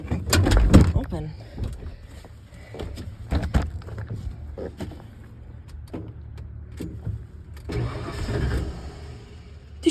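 A worn pickup truck engine cranks with rough repeated bursts and catches briefly, interspersed with door clunks and thumps, close and loud, while people talk in between.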